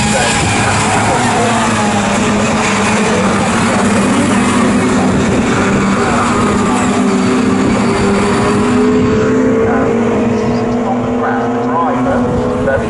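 Mini Seven race cars circuit Snetterton in a close pack, their high-revving engines whining and droning loudly and continuously, while a commentator talks throughout.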